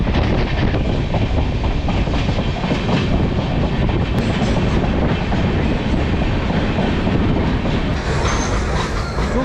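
Train on the Chennai Central to Calicut route passing near Ambattur, Chennai, with a loud continuous rolling roar and rhythmic wheel clatter, occasional brief squeals, close and steady throughout with no talking.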